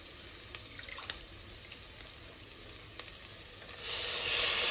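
Mint leaves frying in a pan for paaya soup: a quiet hiss with faint pops, swelling into a louder steady sizzle near the end.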